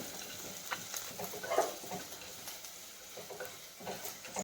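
Onion for fish curry fries in a pan with a quiet, even sizzle, broken by a few soft scrapes and taps of stirring.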